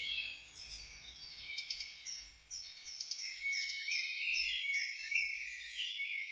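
A hornbill call comes through as a busy run of high, harsh chattering notes, continuous and moderately faint, with low rumbling underneath at times and no voices.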